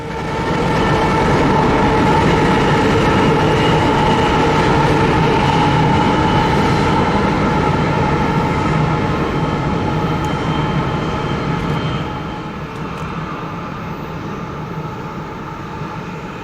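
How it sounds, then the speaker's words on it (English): A freight train led by KCSM and BNSF locomotives rolls past with its rear distributed power unit holding back on dynamic brakes, a loud, steady roar with a sustained whine and rumbling wheels that eases slightly toward the end. "a shot of the rear distributed power unit as it holds the train back with its dynamic brakes"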